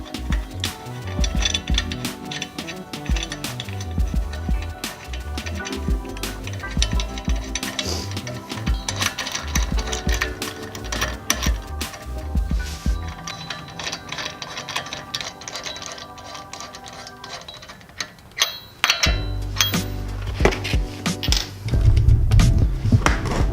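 Wrench or ratchet tightening nuts on 1.5-inch wheel spacers, giving dense rapid clicking and metallic ratcheting in bursts, close and loud, with heavier clunks near the end and no talk.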